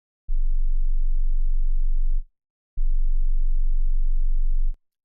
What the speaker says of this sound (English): here is the deep bass